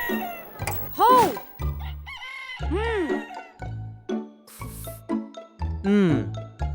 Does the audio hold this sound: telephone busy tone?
no